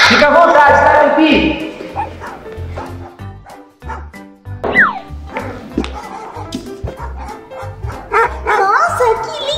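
A puppy barks in a series of short yips and bow-wows, close and fairly loud, mixed with a child-like voice talking throughout a pet-care play scene.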